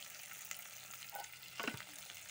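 Onions and potatoes sizzle and fry in a pan, a steady close crackle with a few light stirring clatters and no talking.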